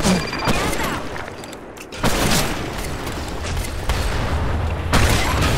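An AWP Ghost sniper rifle fires in the online shooter BlackShot with several loud, abrupt shots spread a second or so apart amid dense game noise and bursts of background effects.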